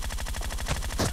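Rapid automatic gunfire in a BGMI team deathmatch, a steady, loud burst of evenly spaced shots with a heavier crack near the end.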